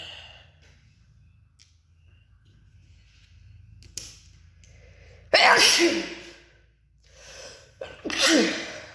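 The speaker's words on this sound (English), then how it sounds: "sometimes you just gotta sneeze, man." Two sharp sneezes ring out one after another near the end, following a quiet stretch with faint background hum.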